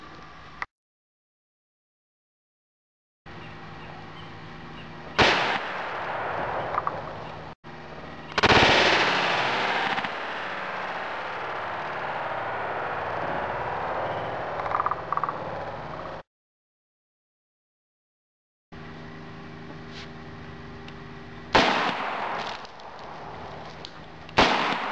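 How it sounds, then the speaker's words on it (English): .357 Magnum rounds fired from a Smith & Wesson Model 686 revolver with a 4-inch barrel, loud sharp reports with long echoing tails, separated by abrupt silent gaps. "this is the weapon for the 357 Magnum 38 test. It's a Smith & Wesson Model 686,"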